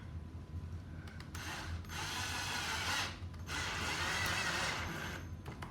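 A flat screw being driven into a Casio Casiano MZ-X keyboard build, heard as two bursts of ratcheting, whirring turning with short pauses between them, close and fairly loud, with no speech.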